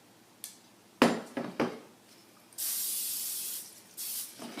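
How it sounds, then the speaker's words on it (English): Cooking spray hisses into a loaf pan in a kitchen, a steady close spray of about a second and a half, then a shorter burst, preceded by a few sharp knocks of the can and pan. "We're going to spray our loaf pan"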